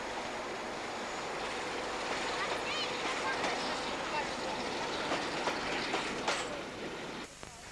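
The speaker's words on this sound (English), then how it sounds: "Many weekend charter trains are powered by diesel engines, one of the most numerous being the Class 47." A Class 47 diesel locomotive hauls a weekend charter train past, its engine throb and rolling wheel noise steady at mid distance before fading abruptly near the end.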